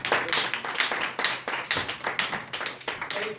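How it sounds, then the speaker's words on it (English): Audience applause for a comedian finishing a set at Hawaiian Brian's open mic night, a small crowd clapping in quick, uneven bursts that stay steady and fairly close throughout. "Everyone give Teresa a big round of applause."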